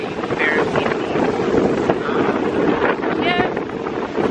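Strong wind buffets the microphone outdoors at a Jamaica resort, a constant loud rumble with faint voices underneath.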